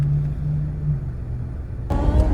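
Road traffic heard nearby as a steady low engine rumble, with a louder vehicle passing close near the end and no speech.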